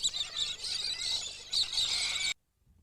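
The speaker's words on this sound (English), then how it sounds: "The Port Lincoln parrots are conspicuous and inquisitive birds." Port Lincoln parrots call in a shrill, continuous chatter of chirps and squawks outdoors near a river, fairly close and loud, cutting off abruptly after about two seconds.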